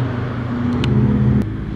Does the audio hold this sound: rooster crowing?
no